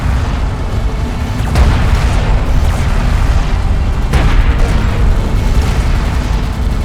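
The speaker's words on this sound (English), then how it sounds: "One of our turrets is taking fire." In the Homeworld: Deserts of Kharak video game, gunfire and explosions pound a turret. Loud, continuous rumbling booms fill the scene, with two sharper blasts standing out.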